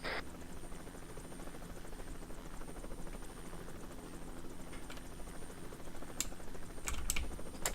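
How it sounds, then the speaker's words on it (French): Helicopter in a video game roleplay chase at night, a steady low rotor drone held at moderate level throughout, with a few faint clicks of computer keys over it and no talking. "Va falloir que tu baisses un peu ton hélico qu'on les voie."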